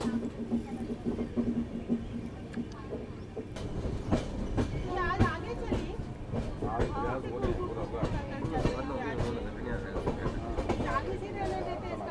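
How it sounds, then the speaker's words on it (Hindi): Indore to Kota Ranthambhore Express passenger train rolling into Nagda Junction station with rhythmic clickety-clack of wheels, metallic squeals and rattling cars, and people talking nearby. "ट्रेन हमारी आ गई है यहाँ पर"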